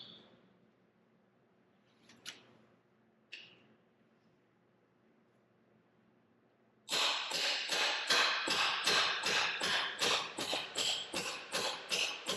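Hammer blows seating needle bearings into a Jeep TJ part: a few faint taps early, then a rapid run of about a dozen sharp, close metallic strikes in steady rhythm.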